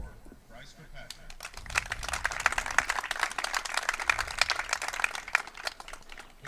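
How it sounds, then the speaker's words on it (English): Applause for junior high baseball 8th graders at a ceremony: a dense wash of clapping swells after a quiet start and holds steady, loud and continuous, with faint voices underneath. "We can have one more round of applause for our 8th graders."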